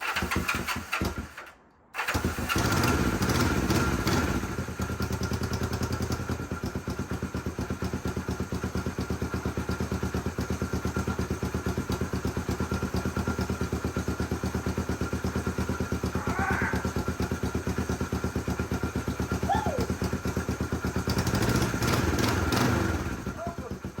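A 1974 Honda CB450 motorcycle engine, cold and being revived, runs steadily with the choke partly opened, a loud, close, continuous idle after a brief cut near the start.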